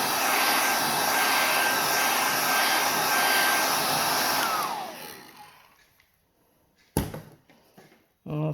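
A hair dryer blows steadily and loudly on a watercolour painting, then switches off and winds down, followed by a couple of brief knocks and handling noises.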